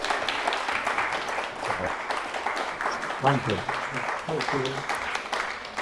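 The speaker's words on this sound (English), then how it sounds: "Come on, let's give him a round of applause." An audience at a book launch where Sheffield Blitz survivors share their stories claps in a steady round of applause, with a voice speaking briefly over it.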